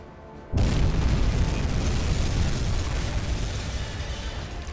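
A torpedo strikes a cargo ship in the submarine game Uboat: after a short quiet lead-in, a sudden heavy boom erupts into a loud, sustained rumbling roar that slowly fades without any voices.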